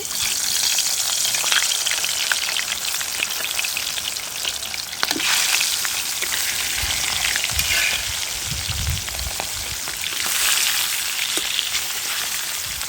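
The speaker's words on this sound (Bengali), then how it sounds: "তেলটা গরম হয়ে গিয়েছে, এখন মাছগুলা আমি একটু ভেজে নিব" Small pond-raised tilapia, salted and coated in turmeric, fry in hot oil with a steady, close, loud sizzle and crackle that runs throughout, with occasional sharper spits and pops.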